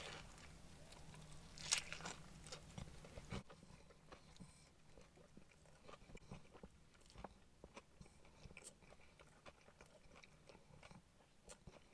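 Someone bites into a crunchy breakfast roll with egg and chews, with repeated close, quiet crunching and wet mastication clicks spread over several seconds and no talk.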